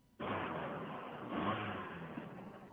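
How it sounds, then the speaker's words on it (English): A car engine catches and starts, then revs up steadily with a rising mid-pitched roar that surges once more before settling into a rough, continuous idle drone; the engine lacks an exhaust manifold and needs other repairs. "Giving it the revs. It runs."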